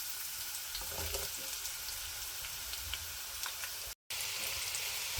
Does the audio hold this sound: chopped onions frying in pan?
yes